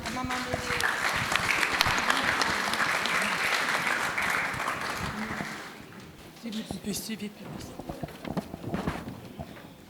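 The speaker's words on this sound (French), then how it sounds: "On peut applaudir maman Méré." An audience at a celebration in Arue applauds loudly and continuously for several seconds, then the clapping drops away to scattered claps while voices talk.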